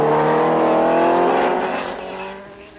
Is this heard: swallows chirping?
no